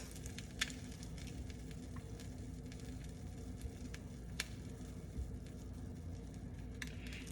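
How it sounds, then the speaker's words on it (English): A utensil continuously stirs mac and cheese sauce in a pot, making a soft, steady squishing and faint sizzling under occasional small clicks of the utensil against the pan. "I'm going to continuously stir it with this."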